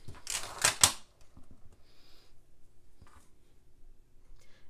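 A rubber stamp pressed onto paper to print a cake-themed sentiment in pink ink while making a paper fry box, heard as a cluster of quick taps and thumps followed by faint handling sounds.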